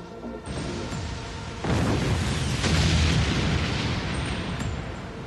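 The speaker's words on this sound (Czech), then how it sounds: "Ty výbuchy znamenají, že ostatní uspěli?" Explosions in the Bakugan animated show roar as a continuous loud rumbling blast: a low boom swells near the start, heavier detonations surge from about halfway, and the din sustains to the end with no speech.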